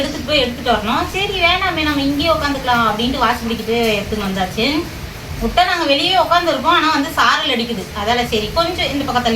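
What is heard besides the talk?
No everyday noises stand out.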